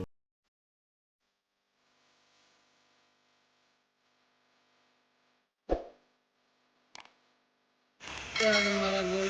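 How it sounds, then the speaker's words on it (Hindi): Garlic, ginger and onion tipped into a hot pan while making keema gobi, a Pakistani minced meat and cauliflower dish, giving a sudden loud sizzle near the end after a few sharp clinks of utensils. "अब इसमें मैं लहसुन अदरक और प्याज डाल रही हूँ।"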